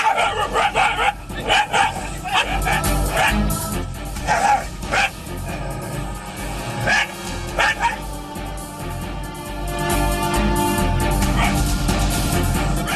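Mother dog in Bhadrak, Odisha, confronting a cobra barks in a string of sharp, close yips and barks with whimpers, some in quick clusters, over continuous background noise.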